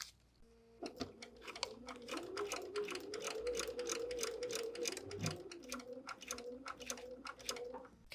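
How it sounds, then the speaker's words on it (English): A sewing machine stitches a foundation paper pieced quilt block, a rapid run of close, regular needle strokes that starts after a brief pause, holds steady for several seconds and then runs in shorter bursts. "we'll go ahead and start sewing"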